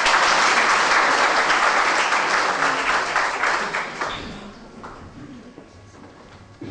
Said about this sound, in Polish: dlatego gorące brawa